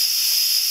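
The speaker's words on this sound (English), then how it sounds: "So we're just going to open that up, and let the steam come out." Steam hisses steadily out of an Instant Pot pressure release valve, a loud, close, continuous airy rush with no voices.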